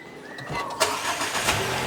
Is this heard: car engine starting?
yes